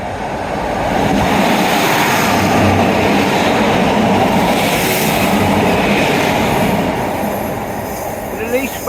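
A train passes through Dawlish station, a loud, sustained rumble and rattle of wagons that holds steady for most of the clip and eases slightly near the end.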